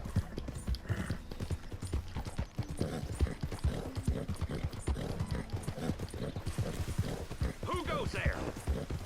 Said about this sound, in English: I'm riding this horse like I'm Paul Revere, my boy.